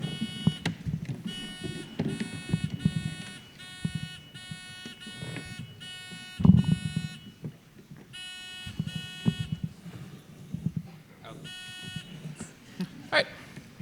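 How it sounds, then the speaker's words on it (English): Quiz tournament buzzers being tested before an academic championship match, sounding as a series of short electronic tones in repeated bursts, separated by gaps with faint room noise and a few thumps. "let's start with the buzzer check"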